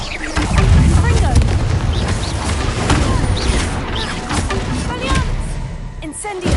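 Spell explosions in the Hogwarts Legacy video game, a run of loud booming blasts and crashing impacts that mix with game effects and a voice shouting spell names.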